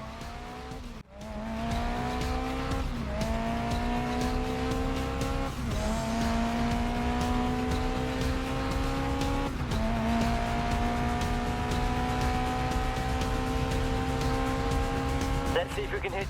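Race car in the GRID Legends racing game spinning out on the final turn, a loud continuous engine whine shifting pitch repeatedly with tire squeal and skidding throughout, steady and close with no talk.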